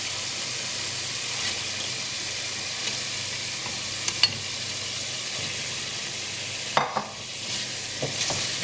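Fish pieces go into a pan of simmering Bangladeshi-style curry, a steady close sizzle and bubbling with a few light clinks and thuds as they are set down, no talking.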